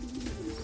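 A racing pigeon arriving at its loft coos softly, a low gentle warble heard close but faint against a quiet background.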